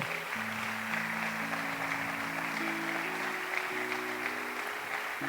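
Applause from a church congregation during a Sunday service, a steady dense wash of clapping held evenly for several seconds while sustained organ or keyboard chords play underneath.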